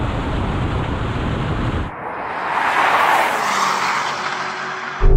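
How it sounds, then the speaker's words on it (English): A Lamborghini Urus and a BMW X5M racing side by side, heard as a steady roaring engine rush that swells into a broad whooshing pass, ending with a sudden loud close burst of noise. "Come on, Urus, beat the X5M."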